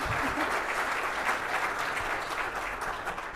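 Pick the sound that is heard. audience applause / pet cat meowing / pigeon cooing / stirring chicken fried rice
audience applause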